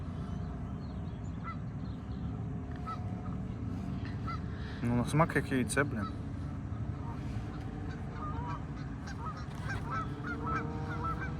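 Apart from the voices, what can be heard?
geese honking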